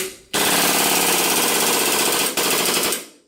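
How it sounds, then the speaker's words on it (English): A full-auto gel blaster pistol running on green gas fires a loud, continuous rapid rattle for nearly three seconds, broken by one brief hitch before it resumes and tails off as the gas runs out. "So this is a full auto pistol, ready?"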